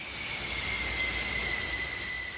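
Jet aircraft on an aircraft carrier flight deck, a steady loud roar with a high whining engine tone holding throughout, heard at a distance and without voices.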